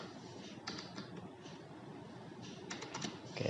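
Faint, quick keystrokes clatter on a computer keyboard as a DNS address is typed in, soft scattered taps in short runs over a quiet room hum.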